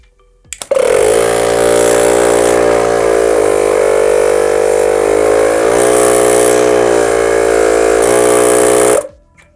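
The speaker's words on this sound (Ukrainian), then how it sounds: "давайте перевіримо, послухаємо, як буде працювати компресор" A compact Vitol K-22 air compressor starts with a click, then runs with a loud, steady, close motor hum and buzz for about eight seconds before shutting off abruptly.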